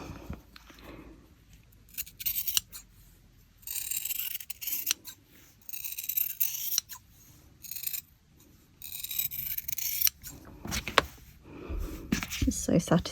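Scissors snipping through a reinforced knitted steek in wool, bursts of close, crisp crunching cuts with short pauses and a person speaking between them.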